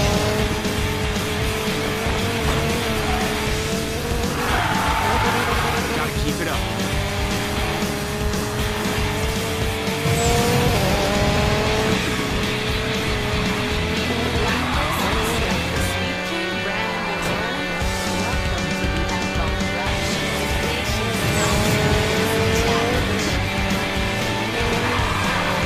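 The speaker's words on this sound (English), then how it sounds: "Here comes 900 horsepower." A 900-horsepower race car from the Cars video game roars continuously, its engine pitch climbing and falling through repeated gear-like sweeps while tire squeals flare up at intervals.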